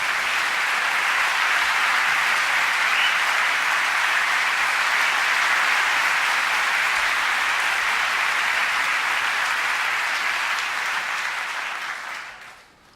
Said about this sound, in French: Vous pouvez applaudir le chef d'orchestre.